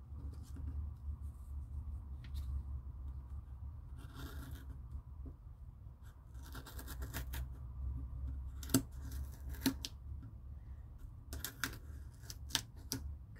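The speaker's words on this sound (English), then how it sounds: "let's see if we can get it cut straight" Scissors snip a gel print on paper to cut it straight, giving a series of quiet, irregular crisp clips and slicing scrapes over a low room hum, close and alone.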